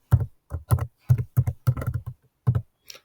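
Python code tapped out on a computer keyboard, a close run of crisp, uneven keystrokes in quick bursts with short pauses between them, heard on their own.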